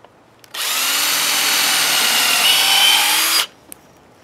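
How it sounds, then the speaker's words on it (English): A power drill whirs steadily for about three seconds as it bores into wood, loud and close, starting and stopping abruptly. "Drill your second hole."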